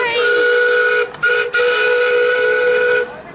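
A steam train whistle gives a loud, close, sustained shriek that breaks off briefly twice before carrying on for a few seconds, with a hiss of steam around it. No one speaks.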